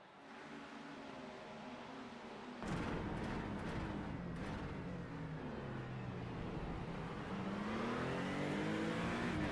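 A pack of GT4 race cars at Hockenheimring in a racing video game, engines droning and revving together, rising in pitch as they accelerate, steady and continuous.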